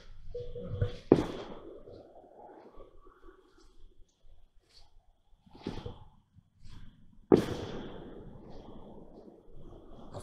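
A few sharp firecracker bangs go off at intervals in a cemetery, sounding somewhat distant, with quiet murmuring and faint background noise in between.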